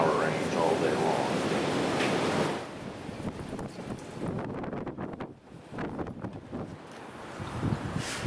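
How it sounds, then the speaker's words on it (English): Strong wind gusting 40 to 50 mph buffets the microphone in rushing gusts, loudest at first and then easing into a steady roar. "we are now expecting wind gusts in the 40 to 50 mile an hour range all day long"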